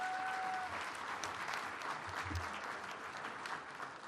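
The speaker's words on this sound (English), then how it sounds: "So please give Tony and his team a round of applause." An audience claps steadily and densely through an acceptance speech, a continuous wash of applause from many hands without a break.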